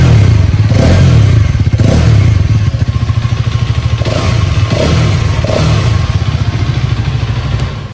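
A Hero Karizma XMR 210 motorcycle's exhaust thumps loudly and close, the engine revved repeatedly in short bursts over a steady throbbing idle, with no talk.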